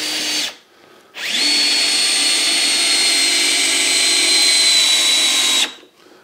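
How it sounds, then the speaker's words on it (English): A Festool C18 cordless drill in screwdriver mode at speed 1 drives a long Torx screw into MDF with no pilot hole, a loud steady high whine lasting several seconds after a brief start and pause, then stopping. "I've stopped there because I think I'm almost through the piece of MDF."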